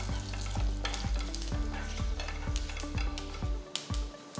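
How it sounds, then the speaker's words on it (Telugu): Cumin and fennel seeds fry in hot oil in a pan, a steady bright sizzle with a spoon scraping and stirring in a regular rhythm, close and alone without talk. "ఇందులో 1/2 టీ స్పూన్ జీలకర్ర 1/2 టీ స్పూన్ సోంపు గింజలు వేసి వేయించాలి"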